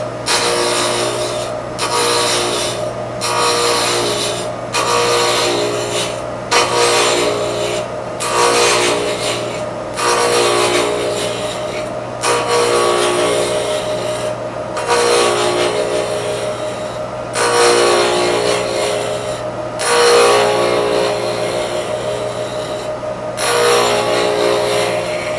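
A wood lathe spins a blank while a large turning tool rounds it off, giving loud, steady rasping and scraping passes in repeated bursts of a couple of seconds each over a constant low motor hum, with no talking.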